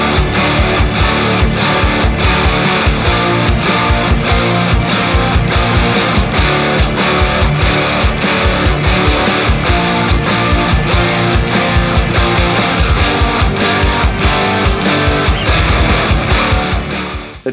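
An electric guitar riff in drop D tuning, played loud and distorted with a driving, steady rhythmic chug of repeated chord hits, continuous and alone without any talking.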